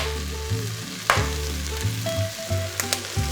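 Watercress, bacon and onions fry in a pan for a quiche Lorraine, giving a steady close sizzle over a low hum, with a few stirring clatters and scrapes, no voices.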